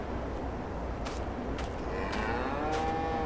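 Cows in a cow pen on a farm in a farming game, a clear drawn-out moo rising over a steady background hum, fairly close, with a few other faint soft sounds.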